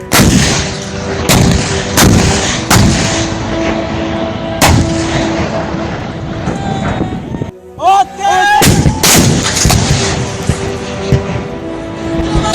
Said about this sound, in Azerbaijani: Hal-hazırda ordumuzun artilleriya bölmələri düşməni atəş